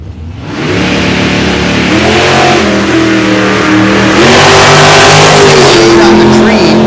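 A Chevy II drag racing car makes a loud, sustained engine run at Darlington Dragway during an IHRA Hot Rod Classic, the revving pitch rising through gears over several seconds, with an announcer talking over it.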